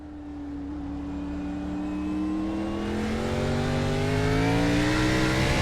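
Onboard a NASCAR Cup race car on the Daytona road course, the engine drones close and loud, its pitch climbing steadily as the car accelerates, with no one speaking.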